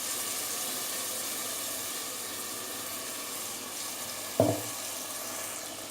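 Masala paste for a chicken curry goes into a hot pan, giving a steady soft sizzle of frying with one brief clattering scrape of a utensil partway through.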